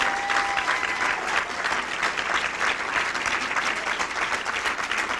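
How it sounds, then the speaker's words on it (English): An audience at a 1995 gathering breaks into applause, a dense, steady patter of clapping from many hands that lasts throughout at an even, moderate level. "Please help me give her a round of applause."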